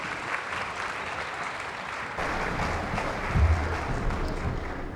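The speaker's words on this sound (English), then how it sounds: "Let's give them, Catherine and Andrew and the families and advocates on stage, a massive round of applause" Audience at an NDIS information session gives a round of applause, moderate clapping that swells louder partway through and holds steady to the end.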